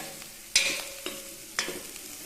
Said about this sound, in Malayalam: ഇനി ഇതും കൂടെ ചേർത്തിട്ട് നന്നായിട്ട് ഒന്നും കൂടെ മിക്സ് ചെയ്യാം നന്നായിട്ടൊന്ന് മൂത്തോട്ടെ